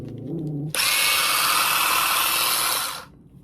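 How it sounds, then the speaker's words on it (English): A cordless battery hedge trimmer, freshly charged and safety lock released, starts abruptly and runs at a loud, steady buzzing whine for about two seconds before cutting off, with a quieter, lower hum just before it starts. "So we're gonna go and trim some of my hedges."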